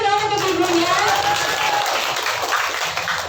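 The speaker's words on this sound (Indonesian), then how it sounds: "boleh tepuk tangan dulu dong untuk ibunya" Steady, dense audience clapping fills a hall during a herbal products presentation, applauding a woman, with some voices and chatter underneath.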